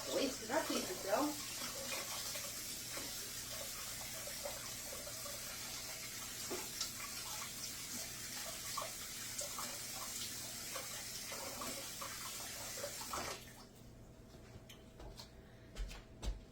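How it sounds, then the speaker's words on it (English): Steady rush of tap water pouring into a sink while hands are washed beneath it, with faint splashing, running for about thirteen seconds before cutting off, followed by brief quiet handling noise. "Let me wash my hands real quick."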